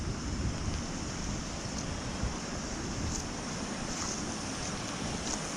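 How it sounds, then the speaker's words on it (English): Raging floodwaters of a swollen river in Kenya roar in a steady, loud, dense rush of turbulent water, continuous and unbroken with no voices. "You can hear the raging waves of the water from here."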